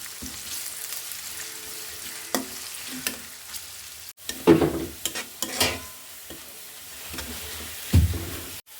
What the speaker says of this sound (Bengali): পেঁয়াজটা দিয়ে দিচ্ছি এবং গরম মশলা এটা আমি এখনই দিয়ে দেবো। এটা লাল লাল করে ভাজবো।